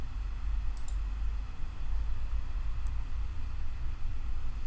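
Computer mouse clicks selecting an on-screen option: a quick double click early on, then a single click a couple of seconds later, all faint over a constant low hum.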